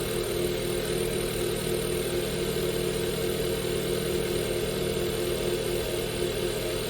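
A car engine idles steadily for the whole stretch, a constant low hum with faint mechanical whir while a crankshaft sensor is tested, no voices present.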